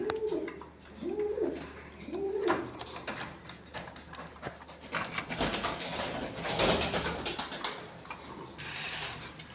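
Fancy pigeons, including a Blood Danish pair, coo nearby, a few soft rolling calls in a row, followed by rustling and shuffling noises.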